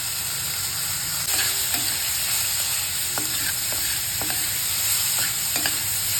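Spiced eggplant bharit mixture with garlic, turmeric and asafoetida frying and being stirred in a pan, a steady sizzle broken by repeated scraping strokes of the spoon against the pan, close and fairly loud.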